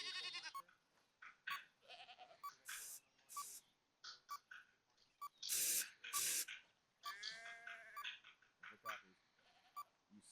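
Sheep bleating in the military game ArmA 3, several wavering bleats scattered across the stretch with short bursts of noise between them; voices speak intermittently over radio.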